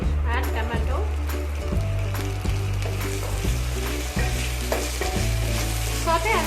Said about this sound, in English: Saute until the tomatoes are tender.